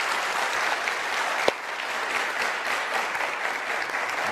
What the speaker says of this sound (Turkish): Bir de alkış istiyoruz